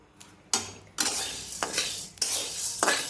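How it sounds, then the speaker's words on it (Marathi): Dry sago pearls being roasted in a pan give irregular crackles and scrapes of metal against metal, with a few sharp clinks spread across a few seconds, close by and with no talk. "साबुदाणा भाजला गेलेला आहे पाहू शकता तुम्ही असा चटचट आवाज यायला लागलेला आहे"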